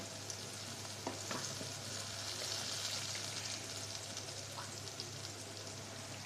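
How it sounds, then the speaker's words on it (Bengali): Onion and green chili frying in a pan for a restaurant-style dried loitta fish recipe, giving a steady close sizzle with faint crackles and a few light stirring clicks throughout, with no talking. "পেঁয়াজ মরিচটা একটু ভেজে নিচ্ছি"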